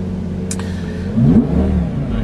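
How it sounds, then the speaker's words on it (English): A repairable salvage 2005 Lamborghini Gallardo with paddle shifters idles, then its engine gives one short rev that rises and falls. The rev sits close and moderately loud above a low, steady idle. "you can see it's revving, it's fine"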